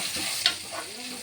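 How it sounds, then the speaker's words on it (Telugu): Broad beans sizzle and crackle in a hot frying pan with a brief stirring scrape, a steady close frying hiss with no voices. "ఫ్రై చేసుకుంటున్నాను"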